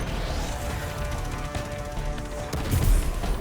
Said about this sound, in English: I'd rather shoot the Hydra now.